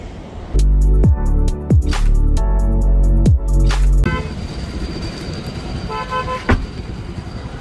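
A vehicle horn blasts loudly and close several times in a row, then the honks give way to a rumbling idle with lighter tones as it pulls in, ending in one more short toot.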